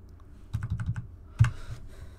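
Computer keyboard keys are pressed in two short bursts, a quick run of close, crisp clicks followed by a single louder keystroke, with no talk.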